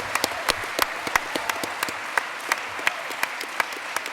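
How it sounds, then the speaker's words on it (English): An audience at a PAX AUS 2019 Omegathon event applauds in a sparse, steady round of claps, with individual hands distinct rather than a roaring crowd. "we need to get a round of applause"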